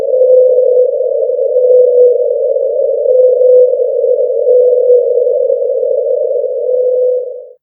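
The lone 52-hertz whale's song, sped up considerably, comes through as a single steady, droning tone that holds loud and unbroken for about seven seconds with nothing else around it.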